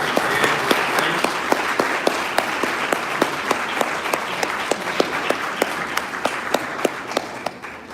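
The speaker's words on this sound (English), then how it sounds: "Let's give those candidates a big round of applause." An audience at a public forum for magistrate candidates gives a sustained round of applause, dense steady clapping from many people for the full stretch, with a few sharper individual claps standing out near the end.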